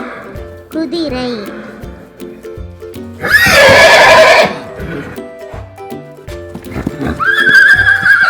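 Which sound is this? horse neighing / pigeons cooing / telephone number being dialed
horse neighing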